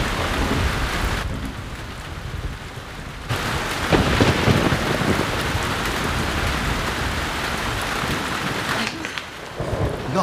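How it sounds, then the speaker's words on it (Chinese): Heavy rain and hail pound down in a village storm, a loud, dense and continuous roar with rumbles of thunder rolling through it and no voices. "下这么大冰雹，村民得遭灾了。"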